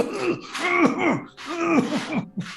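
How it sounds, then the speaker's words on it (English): A video game character coughs and splutters in Mutant Year Zero, a run of strained, gasping throat sounds and rasping breaths in quick bursts, close and fairly loud. "he starts to cough and splutter like"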